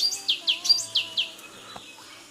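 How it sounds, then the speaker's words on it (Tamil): A green parrot gives a quick series of about six short, shrill chirps. They sound close and stand alone over a faint, steady background tone. "பச்சை கிளி"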